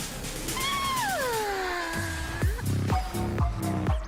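A cat meows in a video game trailer, a long gliding call followed by several shorter repeated meows, clear and close over a steady game soundtrack.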